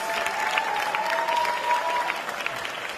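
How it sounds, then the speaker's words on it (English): Steady applause from an audience at a gun violence policy event honoring a former mayor, moderately loud and sustained with scattered individual claps, fading slightly toward the end. "Give him a round of applause."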